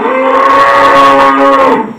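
A young Angus calf gives a loud, sustained moo of about two seconds, close by and clear, with no voices over it, fading out at the end.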